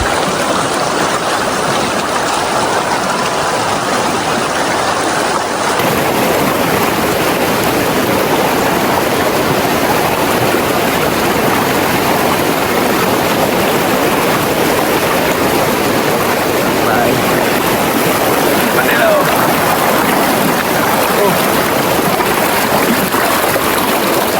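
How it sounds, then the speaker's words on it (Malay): A fast-flowing cold river near a campsite in Kota Belud, Sabah, gives a constant loud broadband rush of water that stays steady and close for the whole stretch. "Air sungai kat sini memang sejuk gila dan juga arus dia sangat kuat."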